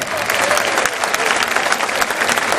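An audience at a village festival awards ceremony claps for the newly elected Miss Bessan, a steady, dense burst of applause filling the space, close and loud.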